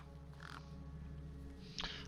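Gang birds cawing over a corpse propped against a rock in the game Beyond a Steel Sky, two short harsh calls, one early and a louder one near the end, over a steady droning ambient bed.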